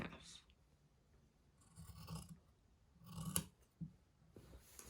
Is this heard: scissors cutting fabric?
yes